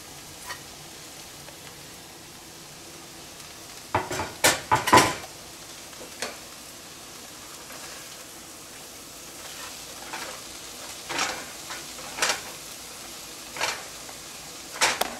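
Fenugreek (methi) leaves sizzle steadily in a hot pan for a dill and methi subzi, with clustered scrapes and clinks of stirring rising out of the hiss midway and again toward the end.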